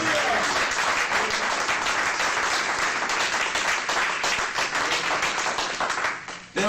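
A church congregation bursts into loud, sustained applause for several seconds, dense clapping that ends abruptly.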